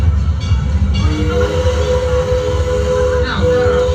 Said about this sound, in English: This is an authentic steam engine